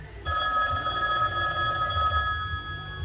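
A telephone bell rings at night in a continuous, steady trill, close and clear for about two seconds before cutting off, with no voices.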